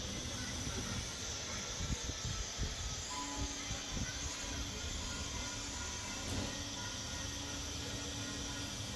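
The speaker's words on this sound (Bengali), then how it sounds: "মাছগুলো আমি ভেজে নেব।" Turmeric- and salt-rubbed fish pieces frying in hot oil, a steady broad sizzling hiss with a few soft bubbling pops early on, faint and continuous.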